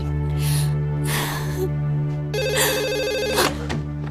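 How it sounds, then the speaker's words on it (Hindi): A telephone rings on an outgoing call, its repeated electronic ringback tones sounding in short bursts over steady background music, with brief breathy vocal sounds nearby. "एलिफ, प्लीज डेनिस को फोन कर लेते हैं, हम खुद से ये नहीं कर सकते।"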